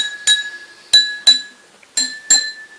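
Five bright glass clinks from an empty glass being struck, spaced irregularly with short ringing decays, close and fairly loud, no voices.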